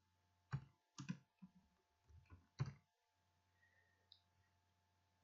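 Short bursts of computer keyboard typing, with clusters of close, quiet clicks separated by pauses in an otherwise silent room.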